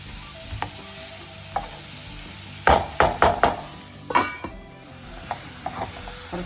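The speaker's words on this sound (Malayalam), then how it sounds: "നല്ലോണം ഇളക്കിയിട്ട് ഒന്ന് അടച്ച് വെച്ചെടുക്കും." Onions stirred in a pan for a Kerala onion chutney, with sparse scraping taps, then a cluster of sharp metallic clanks from pan and lid, followed by a few quieter knocks.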